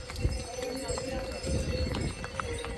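Horse hooves clip-clop in an irregular rhythm on a mountain trekking path from Govindghat to Ghangaria on the Hemkund Sahib route, with soft background chatter.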